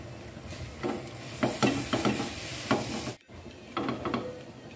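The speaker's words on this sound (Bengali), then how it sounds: "ভালো করে নাড়তে থাকবো সেমাইটা সিদ্ধ হওয়া পর্যন্ত।" Semai vermicelli stirred in a cooking pot, a soft background sizzle broken by repeated scraping strokes of a spoon at an uneven rhythm, close and fairly quiet, with one brief gap.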